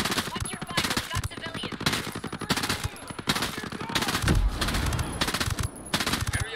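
Rapid automatic gunfire in the shooter Ghost Recon Breakpoint, dense bursts of close shots crackling continuously through the scene, with a deeper thump partway through.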